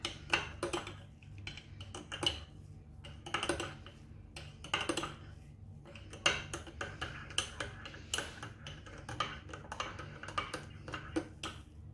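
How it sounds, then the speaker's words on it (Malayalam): A spoon stirs homemade cappuccino mix by hand, giving quick light clinks and scrapes against a cup in irregular bursts, close and fairly quiet, with no talking. "അപ്പോൾ നമ്മൾ അതുപോലെ കെയർഫുള്ളായിട്ട് ഇളക്കി കൊടുക്കുക."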